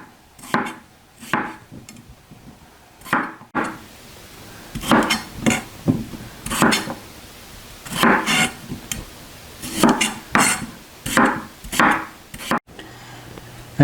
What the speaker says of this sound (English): And then we'll just cut these into 1-inch pieces